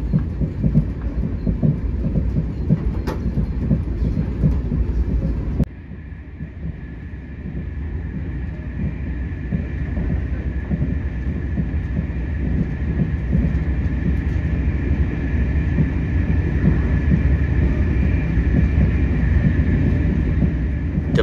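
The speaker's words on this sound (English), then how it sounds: "The carriages can get a little shaky as the diesel locomotive picks up speed." Inside an Irish Rail diesel intercity carriage between Cork and Limerick Junction as the locomotive picks up speed: a loud, continuous low rumble and rattle of the moving train with steady engine drone, one sharp knock partway through.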